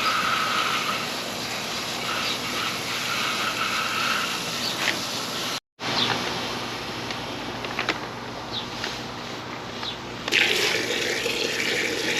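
Water gushes steadily from a hose or tap into the tank of a Flowclear 2,200-gallon sand filter pump, a continuous close splashing fill with one very brief dropout midway.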